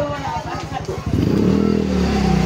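A motorcycle passes close by during a street festival parade, its engine rising from a rough sputter into a louder steady roar over about two seconds, with people talking throughout.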